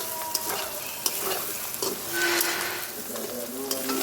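Large dried sea fish (shutki, a big marine eel-type fish) sizzles and fries in a pan with steady stirring, a continuous close hiss with occasional scraping clicks and no talking.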